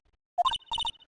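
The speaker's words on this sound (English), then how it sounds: "All of a sudden, the phone began to ring." A cell phone rings with a short electronic ringtone: a quick run of bright, clipped beeping tones, a brief gap, then another similar run, heard alone in quiet surroundings.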